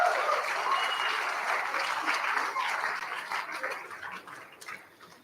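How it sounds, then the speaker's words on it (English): Audience applause at a school sports awards night, a loud crowd burst of many clapping hands that gradually thins and fades toward the end. "give Carter and Ash a round of applause"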